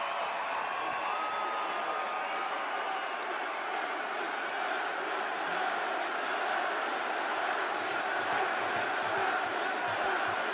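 A large wrestling arena crowd in Montreal sings a wrestler's entrance music together, a steady, distant roar of massed voices with cheering that holds evenly throughout.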